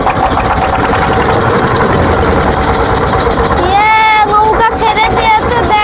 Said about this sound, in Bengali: দেখেন নৌকা এখন ছেড়ে দিচ্ছে